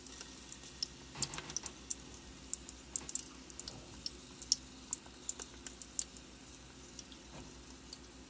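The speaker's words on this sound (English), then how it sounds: "I just end up and basically let it fry in that oil, or tallow" Chunks of beef fat fry in rendered tallow with a quiet, steady sizzle dotted by small, irregular pops and crackles close by.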